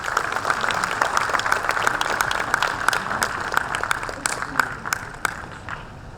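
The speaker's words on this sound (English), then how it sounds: "A big round of applause for all the winners again." Steady applause from an audience fills a hall for award winners at a corporate volunteering conclave, dense and sustained throughout, with individual claps standing out before it thins slightly at the end.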